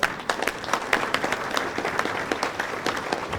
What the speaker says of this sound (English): The Victoria Inn, round of applause, what a great meal.